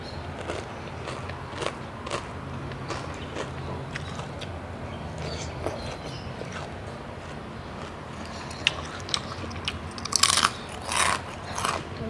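Someone chews crispy pork with sweet coconut-milk rice noodles, making repeated close, soft crunches and bites over background noise, with a few sharper crunches near the end.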